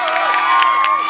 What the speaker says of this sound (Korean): 박수 쳐주신 분들.